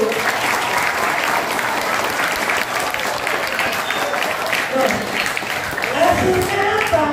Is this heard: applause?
yes